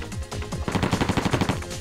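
Rapid bursts of gunfire from guns in the video game Meteor, a stuttering rattle of shots that quickens and tightens into an even automatic rhythm, loud and close throughout.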